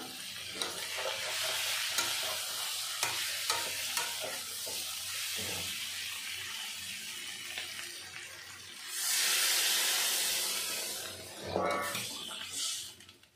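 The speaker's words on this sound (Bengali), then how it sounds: "এখন আমি দিয়ে দেবো পরিমাণ মতো জল।" A bean, potato and bori curry sizzles and is stirred in a pan, with steady scraping and frying crackle, then water is poured in with a loud splashing hiss before stirring resumes.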